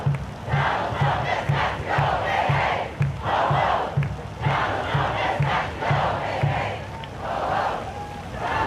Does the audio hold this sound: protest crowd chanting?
yes